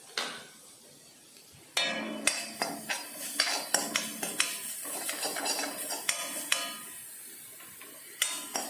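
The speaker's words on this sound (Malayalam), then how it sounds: "നമുക്ക് ഈ തേങ്ങ ഒന്ന് നന്നായിട്ടൊന്ന് വറപ്പിച്ചെടുക്കാം" Grated coconut roasting in a hot pan, quiet at first, then a sharp metallic clang and a run of irregular spoon scrapes and knocks against the pan over a light sizzle, close up with no voices.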